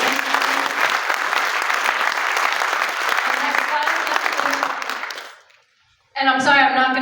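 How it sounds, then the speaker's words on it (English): Audience applause at an annual meeting of a progressive political organization, a dense sustained wash of clapping that fades out near the end, followed by a brief silence and then a voice speaking. "So one more round of applause, please, for our new chapters."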